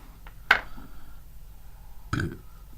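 Two short burps, close up, separated by a brief quiet pause.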